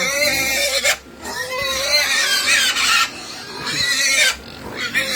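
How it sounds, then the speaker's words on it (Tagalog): Pigs on a farm squeal loudly and continuously at close range, in long shrill bursts broken by brief pauses, with grunting oinks mixed in. "Bantayan niyo yung mga baboy ha."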